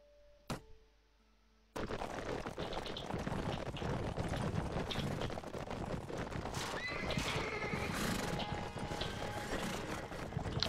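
In the Mount & Blade video game, cavalry charge on horseback with a dense, continuous clatter of hooves, loud whinnying and the clash of battle filling the scene after a brief quiet start.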